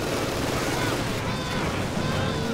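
Sustained MG42 machine gun fire rattling through a Company of Heroes 2 battle, dense continuous bursts mixed with other gunfire and explosions, loud and busy throughout with game action filling the whole stretch.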